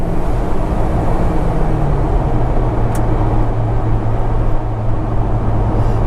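An Alfa Romeo 4C Spider accelerates in winter, its engine a loud, steady drone with a deep note sliding lower, heard from close by without talk.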